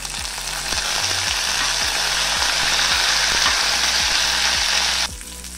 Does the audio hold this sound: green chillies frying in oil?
yes